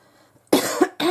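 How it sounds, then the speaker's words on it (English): Two harsh throat coughs from a person sitting close by, a longer one followed by a short second burst after a brief pause. "Still got that throat cough."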